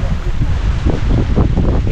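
Gusty wind buffets a microphone outdoors in a loud, continuous low rumble with rushing bursts, and a person's voice comes through faintly underneath.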